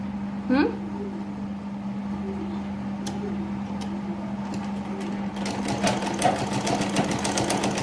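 A sewing machine stitches a kurti seam, a steady motor hum with faint rhythmic ticking, growing busier toward the end, with a brief knock early on.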